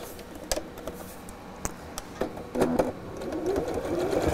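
A sewing machine hems doubled-over fabric in short bursts of stitching, its whirring broken by brief pauses and clicks, running steadily louder toward the end with no talk over it.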